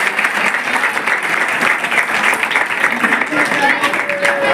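Loud, sustained applause from an audience at an award ceremony for a student, dense clapping filling the whole stretch with a voice faintly underneath.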